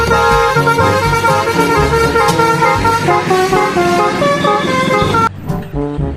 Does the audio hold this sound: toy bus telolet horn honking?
yes